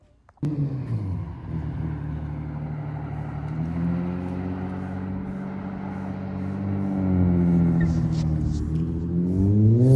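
A Lexus SC300 engine with a freshly repaired exhaust hums steadily, then revs and accelerates, its pitch climbing as it drives off nearby.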